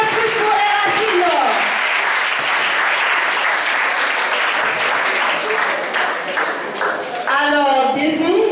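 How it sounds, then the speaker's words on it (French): Audience applause at a school journalism and media awards ceremony, dense sustained clapping filling the room, with a voice briefly heard over it at the start and again near the end. "On applaudit une fois de plus pour les racines."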